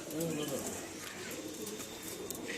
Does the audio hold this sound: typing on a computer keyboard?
no